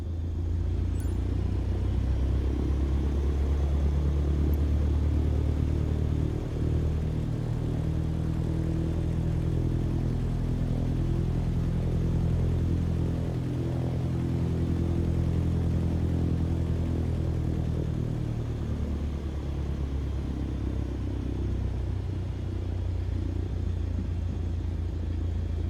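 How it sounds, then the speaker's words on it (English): A Cessna 172 taxiing in Microsoft Flight Simulator, its piston engine droning at low power as a steady, continuous rumble that barely changes across the whole stretch, close and loud with no talk. "Go ahead and taxi into position."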